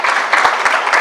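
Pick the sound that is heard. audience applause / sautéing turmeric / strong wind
audience applause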